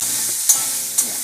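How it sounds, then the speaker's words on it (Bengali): Soybean chunks frying in hot oil in a pan, a dense continuous hiss with two brief scraping stirs, close and fairly loud, no voices. "এবার সয়াবিনগুলো ভাজবো।"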